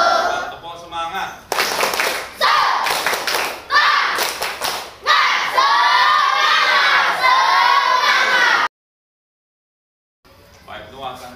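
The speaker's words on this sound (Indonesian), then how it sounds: "Tepuk semangat." A group of schoolchildren performs a rhythmic spirit clap, sharp bursts of clapping and shouted chants in a loud lively pattern, then a short silence before the noise picks up again.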